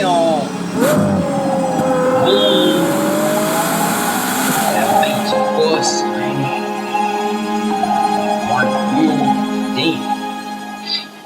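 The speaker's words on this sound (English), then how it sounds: "that is the sound of the brand new Ferrari Purosangue." Ferrari Purosangue V12 SUV revving and driving past, a loud engine note sweeping up and down in pitch as it accelerates, with a faint tire squeal and no one talking.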